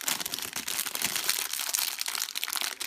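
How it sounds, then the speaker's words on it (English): Plastic packaging around wax melts crinkling and rustling up close as it is handled, a loud continuous crackle with irregular sharp bursts and no speech. "Sorry about the crinkling."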